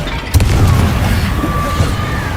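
A Confringo blasting spell bursts in Hogwarts Legacy with a single loud boom, then a rumbling explosion tail and game ambience.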